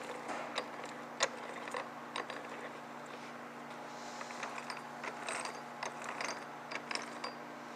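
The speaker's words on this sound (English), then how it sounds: "then you just need to torque these down to 20 to 25 foot-pounds" Ratchet wrench torquing bolts on a G-Force GF5R transmission case, a run of quick rhythmic clicks close by, with a few sharper clacks spaced through it.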